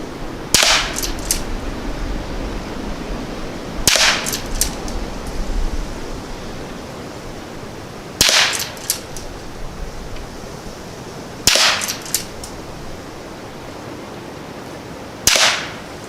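Five sharp, subdued cracks ring out at spaced intervals outdoors, each followed by a short fading tail. They are CCI Quiet .22 rounds fired freestyle at 15 yards from a Henry American Eagle lever-action rifle, with no talking.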